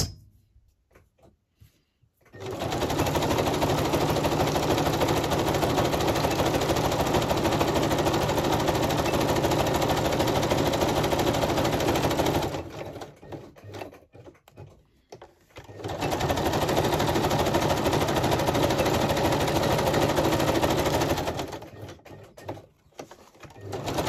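A sewing machine stitches through paper collage pages in a long, steady, whirring run, stops briefly, then starts a second run. The sound is close and even, with no voices.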